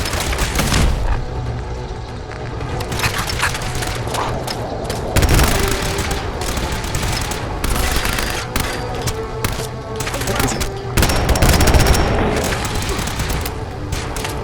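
Fallout 4 combat with sustained rapid gunfire and booming missile launcher blasts, a dense, loud, continuous barrage of shots and heavy thuds throughout.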